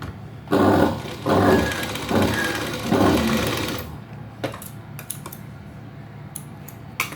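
A sewing machine runs in four short bursts while stitching a blouse, followed by scattered clicks and knocks of handling with the motor quiet.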